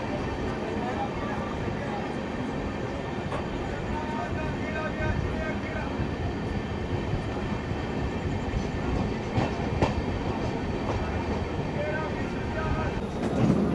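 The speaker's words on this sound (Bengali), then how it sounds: "বন্ধুরা আমাদের ট্রেন এখন ক্রস করছে হুগলি ঘাট।" An express train with LHB coaches runs at night past Hooghly ghat on the Sealdah to Bandel line, a steady, dense rumble of wheels and rolling stock close by, continuous throughout with a slight rise at the end.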